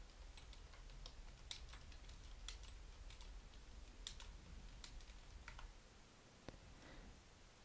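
Fingers type on a computer keyboard, a faint, irregular patter of light clicks and clacks under a steady background hiss, with no voices.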